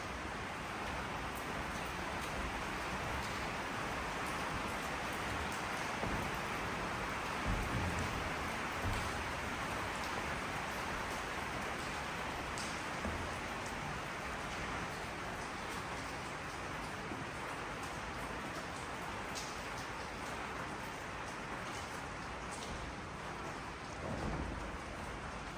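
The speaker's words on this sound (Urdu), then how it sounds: "یہ آپ کو آواز آ رہی ہوگی، بارش ہو رہی ہے جی" Heavy rain pours steadily outdoors near a mining museum in Scotland, with rumbles of thunder rolling under the constant hiss.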